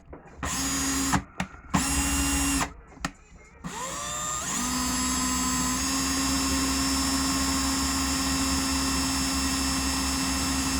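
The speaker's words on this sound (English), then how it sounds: "Reverse your drill. Back it out." A cordless drill running in reverse whirs in several short bursts, then runs continuously at a steady high pitch, loud and close.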